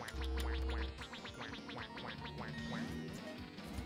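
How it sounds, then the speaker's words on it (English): Rapid cartoonish duck quacks burst out in a quick run from the multiplayer video game Duck Game, loud and close over busy game sound effects and music. "Quack."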